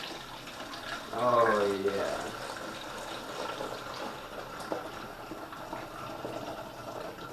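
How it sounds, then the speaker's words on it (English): A litre of cold water pours into a container for elderflower and orange champagne, a steady splashing fill that swells early then settles, with a brief voice over it. "So I'm going to start by pouring in the water."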